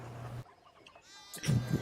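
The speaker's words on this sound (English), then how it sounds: "You got a bunch of sheep wandering around." Sheep bleat in the medieval video game Pentiment, a short steady tone giving way to a couple of loud, wavering cries near the end over a quiet background.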